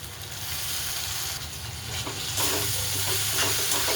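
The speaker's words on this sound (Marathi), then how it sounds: "नुसती हिरवी मिरची एकजीव करते तेलामध्ये" Green chilies sizzle in hot oil in a pan while being stirred, with a loud, steady frying hiss and scraping stirring strokes close up.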